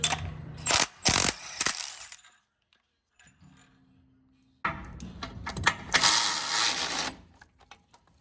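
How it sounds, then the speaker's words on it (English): A ratchet backs a bolt out on a 2005 GMC truck, sounding as close, loud bursts of rapid clicking, then a quiet gap with a low hum, then another sustained run of ratcheting. "Pull this bolt out of here real quick."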